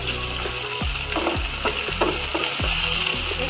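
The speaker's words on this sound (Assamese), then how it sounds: "এয়া মই আলুখিনিও ভাজি ল'ম আগতীয়াকৈ।" Potatoes fry noisily in a pan of hot oil, a steady close sizzle broken by several distinct stirring scrapes and knocks of a spatula at an uneven rhythm.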